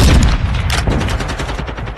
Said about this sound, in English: I'm really not understanding why I am immediately being shot in the head.